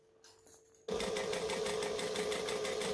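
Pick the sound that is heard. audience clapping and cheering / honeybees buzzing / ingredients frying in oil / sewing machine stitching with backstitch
sewing machine stitching with backstitch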